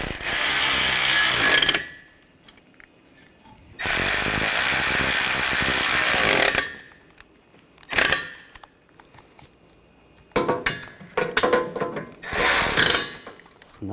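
Ratchet wrench tightening AC condenser mounting bolts on a Buick Encore, in four loud bursts of rapid clicking separated by pauses, close by with no talk.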